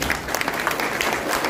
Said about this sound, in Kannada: ಈ ಪ್ರೋತ್ಸಾಹಕ್ಕೆ ಮತ್ತೊಮ್ಮೆ ಅವ್ರಿಗೆಲ್ಲರಿಗೂ ಒಂದು ಚಪ್ಪಾಳೆ ಹೊಡೀರಿ.